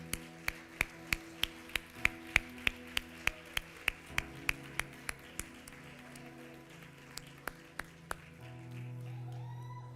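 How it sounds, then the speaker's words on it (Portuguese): A congregation at a church service claps in unison, a slow, even beat of sharp, distinct claps that fades after about eight seconds, with a low musical drone continuing underneath. "Vamos aplaudir a entrada de Deus e os seus anjos."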